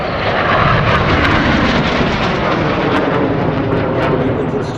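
Red Arrows jets roar past during a low formation pass at the 2024 Sywell Airshow. A loud, broad, continuous engine rush fills the whole stretch and swells slightly as they go by.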